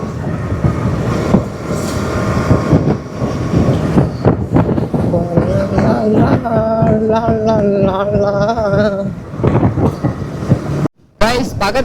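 A train passing close to a railway station rumbles steadily and loudly, with a sustained tonal horn-like wail in the middle, while people talk nearby.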